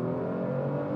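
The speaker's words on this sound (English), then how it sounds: "you can't debate the noise of that engine" A Kia Stinger's engine revs hard under acceleration while overtaking, a loud sustained mechanical drone with steady harmonic whine filling the moment alone.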